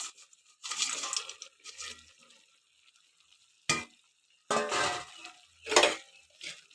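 Fried puti fish being stirred into a simmering fish curry in a pan, with intermittent scraping, sizzling bursts separated by quiet gaps.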